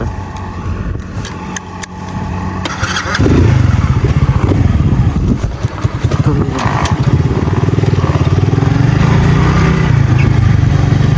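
Small moped engines idle nearby, then rev up loudly and rumble steadily as the mopeds pull away.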